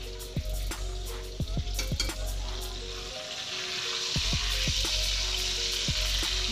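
Steak sears in a hot pan with a steady broadband sizzle that swells slightly toward the end, punctuated by several sharp clicks and taps of utensils against the pan.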